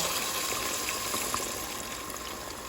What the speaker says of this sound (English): we also going to be adding water to this because we have to add our vegetables and get it covered